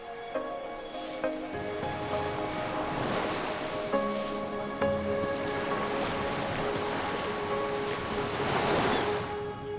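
Ocean surf rolls and washes continuously along a shore, a steady moderate roar with surges of breaking waves and some wind, under faint background music.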